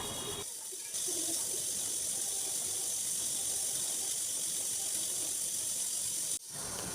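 A pressure cooker boiling lentils gives off a steady, fairly quiet hissing rush of escaping steam. The sound cuts out briefly at the start and again near the end.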